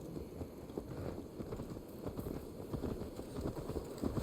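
A horse's hooves clip-clop in Assassin's Creed Valhalla, a steady run of soft, close hoof beats over a low background rumble, with no talking.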